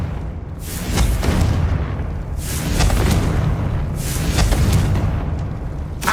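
Repeated Confringo blasting spells explode in Hogwarts Legacy, three loud booming blasts with crackling debris and rumbling tails, close and powerful, rolling one after another.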